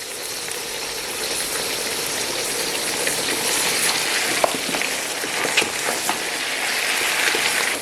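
Meat for nali nihari fries loudly in a pan with onions and garlic-ginger paste, a constant dense sizzle with occasional stirring scrapes and pops, and no voice over it.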